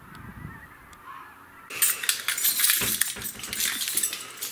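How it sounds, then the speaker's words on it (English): A flock of snow geese honks in early October, the calls swelling suddenly from a faint start into a dense, continuous chorus from many birds in the distance. "You hear those honkers?"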